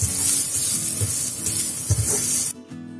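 Flattened rice (aval) roasts in a pan over a medium flame, with a continuous hissing, sizzling rustle and soft stirring sounds that cut off abruptly near the end.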